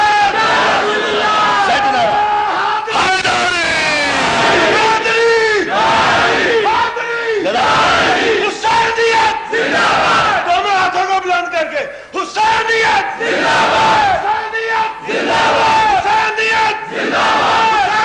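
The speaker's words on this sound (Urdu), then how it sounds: "یعنی نعرہ حیدری." A large religious gathering shouts the Naara-e-Haidari slogan in repeated loud, rhythmic waves of massed voices, each cry rising and falling in turn with short pauses between.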